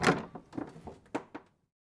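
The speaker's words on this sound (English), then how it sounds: "I opened the door to the small shop." A small shop's door is opened, giving a series of close wooden knocks and thuds with a rattling latch, several separate bumps over about a second and a half before the sound stops.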